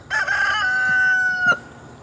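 A rooster in a backyard garden crows once, a loud, close, drawn-out cock-a-doodle-doo that rises, holds a long sustained note and breaks off sharply, with faint outdoor background afterward.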